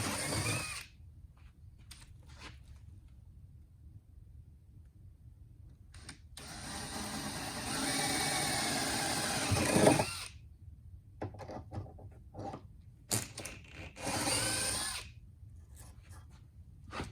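A power drill bores holes in a homemade wooden breadboard, with several sustained whirring runs of a few seconds each separated by quiet pauses, close and fairly loud with no talking.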